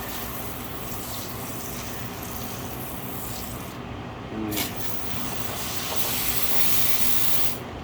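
A SOLO 301 pump foamer set to wet foam sprays with a steady close hiss that runs unbroken, with a short sharper burst midway and a slight swell near the end.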